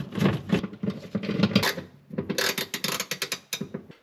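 Screws are driven into the back plate of an electric oven during a heating element replacement, giving a run of close, rapid ratcheting and grinding bursts with short pauses between them.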